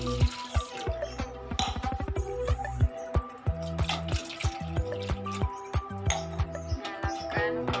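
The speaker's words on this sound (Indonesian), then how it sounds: "Langsung aja kita masukkan airnya." Water pours into a cooking pot for milk pudding with a gurgling, bubbling splash whose tone rises as the pot fills, close and fairly quiet.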